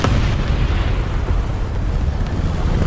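Heavy artillery shells pound a position in the War Thunder tank game, a continuous dense rumble of overlapping explosions and booms, loud and close throughout with no pauses.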